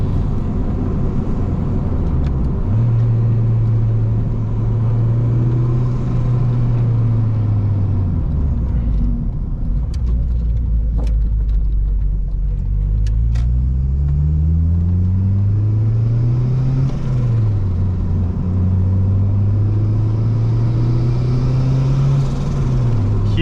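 Honda Civic coupe with a big-turbo 350 hp engine, heard from the cabin pulling through the gears, its engine note rising in long sweeps with drops at each shift over a loud, constant road rumble.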